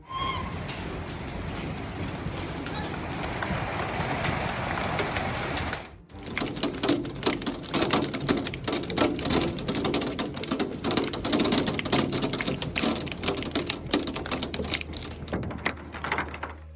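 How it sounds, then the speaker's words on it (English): A hailstorm in central Argentina: after a steady rain-like hiss, dense irregular clattering of hailstones pelts surfaces nearby for the rest of the stretch, loud and continuous. "a storm with hail hit central Argentina, destroying everything in its path"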